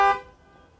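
A single short honk from the horn of a Genesis G80 sedan, loud at first and then decaying quickly into silence.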